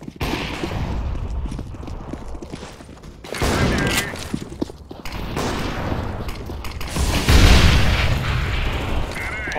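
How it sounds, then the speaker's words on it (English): A flashbang grenade going off in the game CS:GO, heard as a loud burst of booming, crackling gunfire-like noise with sustained dense rumble and several surges, in a busy in-game mix. "Throwing flashbang."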